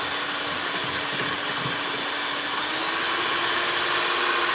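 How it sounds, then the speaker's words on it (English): A three-speed electric stand mixer whirs at a higher speed while whipping macaron mixture, a steady close hum that grows slightly louder, with no talking. "I'm gonna turn my mixer up"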